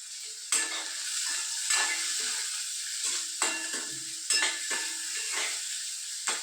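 Onion with a pinch of salt being stir-fried in a pan: steady close sizzling with repeated scraping stir strokes at a loose rhythm, no talking.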